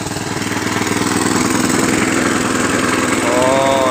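A 7 hp power tiller engine runs steadily close by, a loud, rhythmic chugging throb that holds an even pace throughout.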